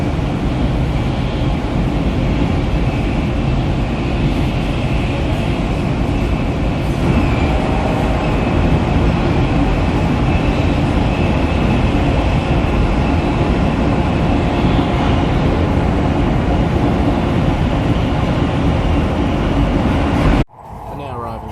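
Inside a Shinkansen bullet train running between Sendai and Morioka, a steady, loud rumble and whoosh fills the carriage throughout, then stops abruptly near the end.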